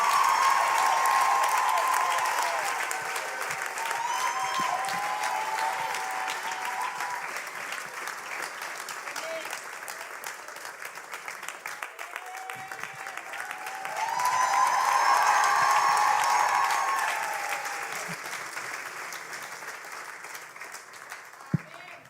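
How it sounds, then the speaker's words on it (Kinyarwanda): Audience applause welcoming a pastor at a church service, steady clapping from a large crowd that eases, then swells again near the middle before fading, with cheering and talk mixed in. "Tumwakire n'amashyi menshi cyane"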